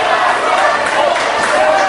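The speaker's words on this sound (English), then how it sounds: "Listen to this crowd." A wrestling crowd at a CWE show in Winnipeg roars loudly and steadily throughout, a dense wall of cheering and shouting with no break.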